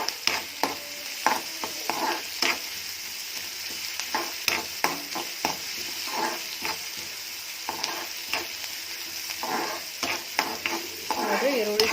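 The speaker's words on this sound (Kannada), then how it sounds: "ಅದಕ್ಕೆ ಒಂದು ಸ್ವಲ್ಪ ಈರುಳ್ಳಿ ಚೆನ್ನಾಗಿ ಬಾಡಿಸ್ಕೊಂಡು" Onions sauté in a pan for cauliflower palya, a steady sizzle broken by repeated sharp scrapes and clinks of a spoon stirring against the metal, close and fairly loud with no talking.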